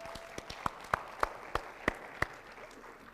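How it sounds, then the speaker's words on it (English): A handful of sharp, spaced claps ring out one by one at a slow, uneven pace from a youth conference audience, fairly faint with a quiet room behind. "I want you to give an even bigger hand clap to my fellow islander, Kumal from Fiji."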